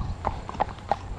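A horse's hooves clip-clop three times in an even, moderate rhythm, fairly close and distinct over a low background rumble.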